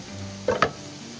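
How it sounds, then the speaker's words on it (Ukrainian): Chanterelle mushrooms frying in a pan, heard as a brief soft sizzle with a couple of sharp stirring clicks in the middle of a short, otherwise steady kitchen hiss. "Поки лисички смажаться, відварюємо картопельку."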